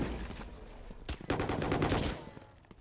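Gunfire in a Valorant esports match, a sudden loud shot followed by a rapid burst of repeated shots over a dense game sound bed, close and punchy, then fading out.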